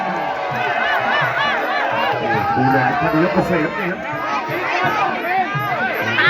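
Crowd noise at a rural Muay Thai fight in Sisaket, Isan, a steady roar of cheering and shouting from spectators that runs throughout under continuous loud ringside commentary.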